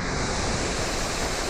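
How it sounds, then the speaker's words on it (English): Spruce Flats Falls, a waterfall, roars as a continuous broadband rush of falling water, steady and fairly close, with no voices over it. "That's the waterfall, actual Spruce Flats Falls"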